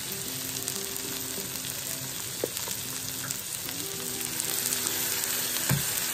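Minced garlic and crushed pepper frying in a wok give a steady, close sizzle with a few faint stirring clicks and no talking.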